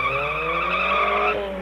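A cartoon car's tyre skids with a sustained, high-pitched squeal that holds steady and loud for over a second before cutting off abruptly, with no speech.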